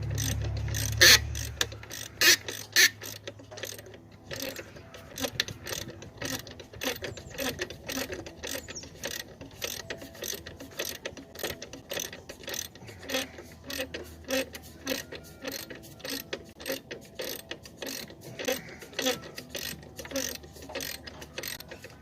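Rapid ratchet wrench clicking in a long steady run while a rusty bolt is worked loose on a 2000 Jeep Grand Cherokee, close and loud, with a low thud at the start.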